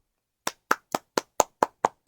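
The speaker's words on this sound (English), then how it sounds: "I'm currently applauding in a circle" One person claps alone and close by, eight sharp, crisp hand claps in a steady, even rhythm after a moment of silence.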